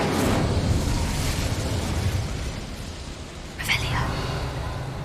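Incendio fire spell cast in the video game Hogwarts Legacy: a whooshing, crackling burst of flame rises sharply over continuous background game ambience, then fades.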